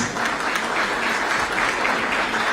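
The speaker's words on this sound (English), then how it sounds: "Can we give them a warm round of applause, please?" Warm applause from guests at a political party anniversary reception for diplomats, honoring veteran performers from the Taiwan TV Cultural and Art Troupe; a dense, even wash of many hands clapping, moderately distant, with no speech.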